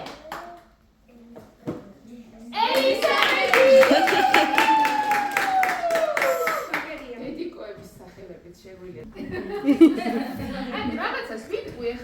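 A group of children clap together at a Tbilisi children's book reading hour, the clapping dense and sustained for several seconds, surrounded by an adult's speech and the chatter of children.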